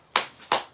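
Two sharp, close hand claps, spaced about a third of a second apart, ring out after a guest is welcomed onto a talk show. The claps are brief and moderately loud, with near silence around them.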